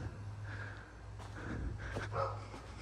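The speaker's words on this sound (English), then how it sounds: "But what is my dog barking at?" A dog barks a few times at a distance, muffled and intermittent over a steady low hum.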